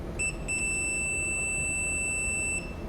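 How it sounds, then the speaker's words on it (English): A Kwikset 910 smart lock keypad sounds a long, steady, high-pitched confirmation beep lasting about two seconds after a short chirp, heard up close over faint background noise. "Got a long beep."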